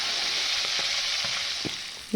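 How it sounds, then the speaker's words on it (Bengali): A fish head fries in hot oil with a steady, dense sizzle throughout, broken by a few soft stirring knocks, then a sharper clink at the very end. "আরেকটা মুড়ো ভেজে দিয়ে দেবো ভেজে নেবো লাল লাল করে"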